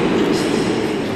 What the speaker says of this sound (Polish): hali dworcowej, budynku dworca Antwerpen Central.